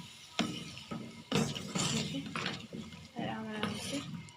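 Potatoes and peas being stirred in a cooking pot for aloo matar: several scraping, clinking spoon strokes against the pot, quiet and close, with a voice talking over them.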